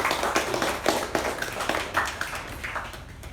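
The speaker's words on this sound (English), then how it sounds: "So a round of applause to the evaluator." Applause at a Toastmasters club meeting: a steady patter of many hands clapping throughout, moderately loud, with no talking.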